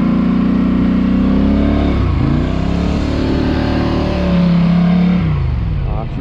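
A Polaris Sportsman 850 ATV engine revs hard and steadily as its wheels spin on dirt mounds, a loud close droning roar with pitch shifts and a brief dip before surging again.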